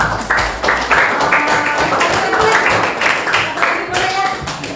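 A classroom of pupils claps together, with a sustained burst of rhythmic applause filling the room and voices mixed in beneath it.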